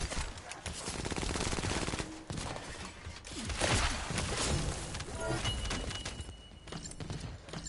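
Rapid automatic gunfire in the shooter video game The First Descendant, dense rattling bursts running almost continuously with brief gaps, fairly faint in the mix and without talk.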